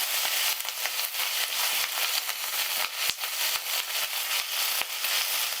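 Ginger paste sizzles and crackles steadily with salt in a hot pan for a vegetarian drumstick curry, a dense close frying hiss broken by sharp popping spatters throughout.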